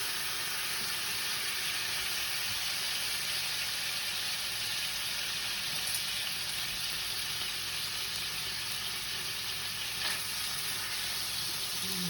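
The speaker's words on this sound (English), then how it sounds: "you're going to want to hear that sizzle." Bear meat sears in butter in a very hot pan, giving a continuous loud sizzle and hiss with faint stirring scrapes and no voices.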